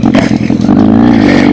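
A 2000 Kawasaki ZRX1100 motorcycle engine, loud and close, running with a steady, throbbing low rumble and a slight rise in pitch toward the end, with no talk.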